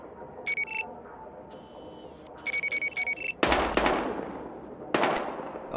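Gunfire in the shooter game Battlefield Hardline: a few rapid electronic beeps, then two loud, sharp blasts with long, booming decays.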